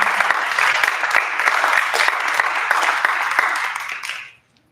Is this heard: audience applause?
yes